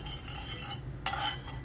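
Spoon stirring sugar into warm water in a bowl while preparing eggless hotdog bun dough, giving quiet scraping clinks with a brighter clink near the end.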